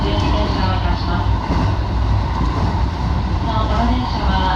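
A JR West 207 series commuter train rolls along the Fukuchiyama Line, heard from inside as a steady low rumble of wheels and motors with a faint rhythmic rattle, continuous and moderately loud.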